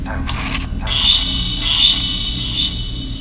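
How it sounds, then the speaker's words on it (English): Ghost box app producing warbling, droning electronic tones with an echo effect applied, steady and moderately loud with sustained high whining bands over a low hum, no talking. "We're gonna turn on the echo."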